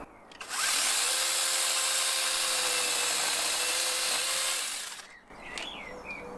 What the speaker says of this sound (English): It's a little mini chainsaw.